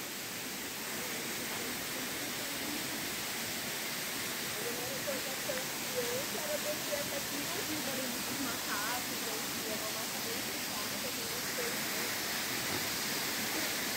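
Continuous rushing water roars steadily throughout, a broad hiss from a nearby waterfall in Pedro Mineiro Ecological Park, with faint voices occasionally mixed in.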